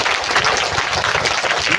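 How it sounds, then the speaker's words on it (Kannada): A crowd at an English-medium school opening ceremony claps loudly and steadily, a dense close burst of applause lasting throughout. "ಒಂದು ಜೋರ ಚಪ್ಪಾಳೆ ಹೊಡೆಯಿರಿ ಎಲ್ಲರೂ."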